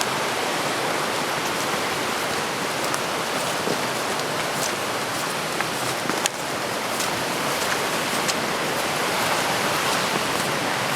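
Close and constant, a backcountry creek feeding the Casaga River rushes and splashes in an even roar, with small sharper trickles and drips flickering through the steady flow.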